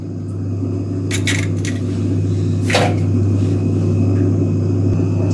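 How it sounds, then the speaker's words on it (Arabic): Eggs are cracked into a mixer bowl in a home kitchen while preparing a cake batter, giving a few brief, sharp knocks and a crack over a steady low hum. "نكسر بيضتين"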